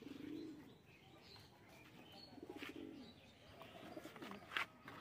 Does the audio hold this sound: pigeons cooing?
yes